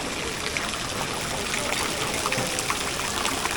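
Fountain water pours from a dolphin statue on a street in Bologna, Italy, a steady close splashing and trickling wash that continues without pause, with no talk over it.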